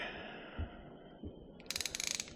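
A socket wrench works on the final drive washer of a Honda C50, giving a few soft knocks followed by a quick run of close, crisp ratcheting clicks.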